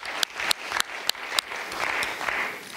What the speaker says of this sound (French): Donc je crois qu'on peut applaudir les éleveurs accompagnés de leurs conseillères.